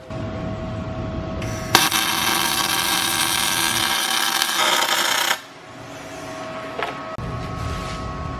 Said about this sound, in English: Justin's gonna weld the two main, these 2 gears right here, and then later you'll keep rotating and do the other 2